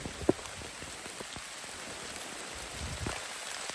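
Heavy rain falls in a forest, a steady, moderately quiet hiss of drops on foliage and ground with scattered individual drip ticks, no voices.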